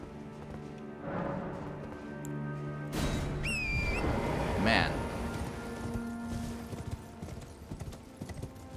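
Rhythmic hoofbeats of a galloping horse in Elden Ring over a busy game soundscape, with a brief whinny and some clattering effects partway through.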